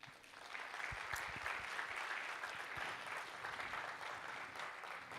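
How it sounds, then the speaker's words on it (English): Audience applause at the Singapore International Energy Week IEA Forum, a steady broadband wash of clapping that rises quickly and holds even throughout, moderately distant and fairly quiet, with no voices over it. "Let's start by welcoming one and all with a big round of applause"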